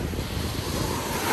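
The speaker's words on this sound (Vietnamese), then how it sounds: "Sóng biển có vẻ rất là lớn luôn." Large sea waves break on Nha Trang beach in the afternoon wind, a continuous loud roar of surf and rushing air with no pauses or voices.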